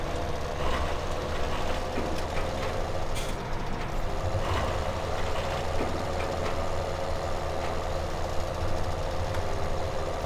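Tractor engine in Farming Simulator 17, hauling a trailer full of wheat, drones steadily and loudly for the whole stretch with a low rumbling hum and no talking.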